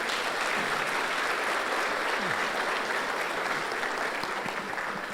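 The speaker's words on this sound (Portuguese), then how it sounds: "Palmas aí para o varão." A church congregation applauds steadily at a service. The clapping forms a dense, even wash that holds at the same level for about five seconds.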